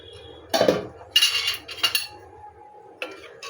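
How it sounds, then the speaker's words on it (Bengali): A lid goes onto a pot of pale fish curry cooked with radish, potato and cauliflower, giving a few light metallic clinks and clatters spread over a few seconds, close by, with no talking. "আমি গ্যাস অফ করে দিলাম এইবারে আমি এটা একটু সময় ঢেকে রাখবো"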